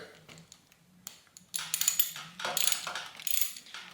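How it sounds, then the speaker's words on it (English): A ratchet wrench clicks as it tightens bolts on a rusted RST Gila T5 bicycle suspension fork. Faint, sparse clicks come first, then a louder, close run of fast ratcheting bursts. "Then use my wrench here."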